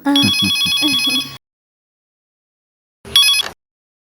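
A telephone rings indoors with a loud electronic trill, one burst of just over a second, a pause of silence, then a shorter second burst, heard alone without voices.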